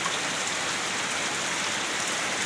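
Steady, dense rain falling after a month-long dry spell, a constant close hiss of drops on surfaces with no breaks or talking.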